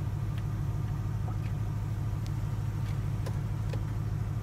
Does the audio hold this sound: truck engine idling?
yes